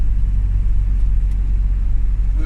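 A heavy refrigerator truck cruises on a highway from Frankfurt toward the port of Antwerp, a steady low engine and road rumble heard from inside the cab, droning evenly with no talk.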